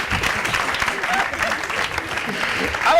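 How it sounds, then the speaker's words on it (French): Studio audience applause at a live morning talk show, a steady wash of clapping that runs throughout, with some voices mixed in. "On va l'applaudir."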